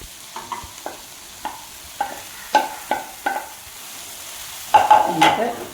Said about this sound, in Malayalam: നമ്മളെടുത്ത് വെച്ച ഈ സോയാബീൻ ഉണ്ടല്ലോ, മസാലയൊക്കെ ആഡ് ചെയ്തത്, അതിലേക്ക് ഇട്ട് കൊടുക്കുക